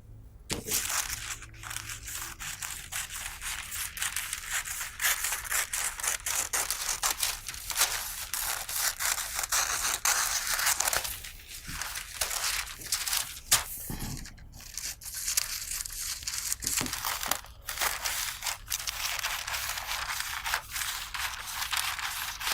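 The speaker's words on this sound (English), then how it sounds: "Next, I need to cut the pattern." Scissors cutting through a paper sewing pattern, a continuous close crisp rasp of snipping and crinkling paper that pauses briefly midway, with no voices.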